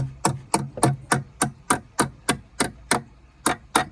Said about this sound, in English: just hammer them until they go tight